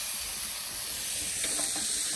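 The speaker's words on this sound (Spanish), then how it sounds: "Que chille el sartén." A frying pan sizzles over a campfire while camping in the woods, giving a steady, fairly quiet hiss with no talking over it.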